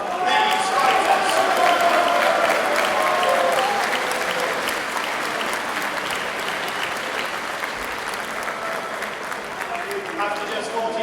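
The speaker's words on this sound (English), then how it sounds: "Round of applause for both these fighters." Crowd applause at a professional boxing match, loud and sustained for about eleven seconds, peaking early then settling into a steady clatter of clapping with scattered cheers, while a ring announcer's voice speaks over it.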